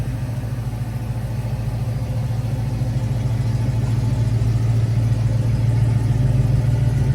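A 1966 Ford Mustang Bullitt with a Flowmaster exhaust and trumpet tips idles steadily up close, its deep, even rumble holding for the whole stretch and swelling slightly toward the end, with no voices.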